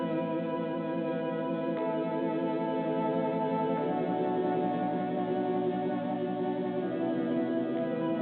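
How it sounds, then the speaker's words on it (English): Sustained synth pads played on an expensive Prophet synthesizer form a smooth, continuous chordal wash with slow chord changes, loud and steady throughout with no other sounds. "Next I have these pads that I played on the Prophet."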